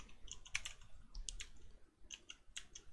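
Quick bursts of keystrokes on a computer keyboard while entering text in Photoshop, close and fairly quiet, in uneven clusters of clicks with short pauses between them.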